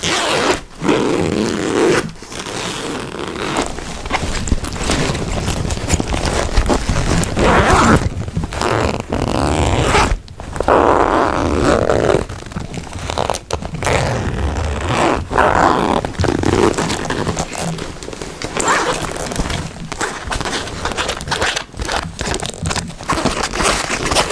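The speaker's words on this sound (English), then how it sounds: "on the other side of the bag, here, there's a zipper pocket with a very nice zipper." A zipper on the outer pocket of a church bag is opened and closed over and over, giving loud close rasping pulls with short pauses in between and no talking.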